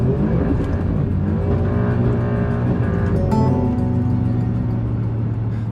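An Alfa Romeo Stelvio Quadrifoglio in race mode accelerates hard on a damp road, its engine rising loud and close with a continuous roar heard from inside the cabin.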